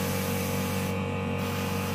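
Airbrush spraying green paint onto a fashion design card, a steady continuous hiss of air and paint mist that holds evenly throughout, with a faint constant hum beneath and no talking.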